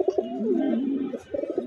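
Budapest racing pigeons coo in a close, continuous run of soft throaty calls that swell, dip briefly near the end, then pick up again.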